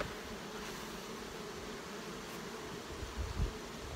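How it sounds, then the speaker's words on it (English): Honey bees swarm over a comb frame full of nectar as it is lifted from the hive, a steady, dense buzzing hum filling the whole stretch, with a brief louder thump near the end. "we just shake all the bees off the comb"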